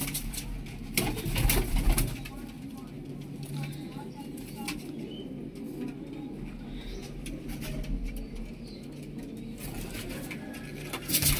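Pigeons in a loft coo softly and steadily in the background amid fluttering, scratching and general rustle, with occasional low voices nearby.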